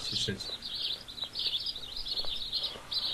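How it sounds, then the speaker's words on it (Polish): Birds chirp steadily in the background of the WarZ zombie survival game, a bright continuous twittering layered with faint voices. "te ptaki dają po uszach"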